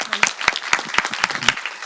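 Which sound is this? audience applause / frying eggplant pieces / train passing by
audience applause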